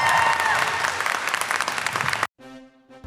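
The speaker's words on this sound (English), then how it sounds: "a huge round of applause for Steve Burns." A dense crowd applauds loudly at a comic convention panel for Blue's Clues host Steve Burns, steady clapping for about two seconds before cutting off abruptly into near silence.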